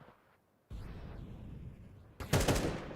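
Automatic gunfire rattles in rapid bursts during a Counter-Strike match at a PGL Cluj-Napoca tournament, loud and close, with a dense volley near the end.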